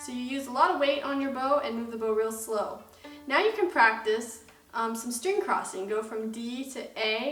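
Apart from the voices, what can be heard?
No everyday noises stand out.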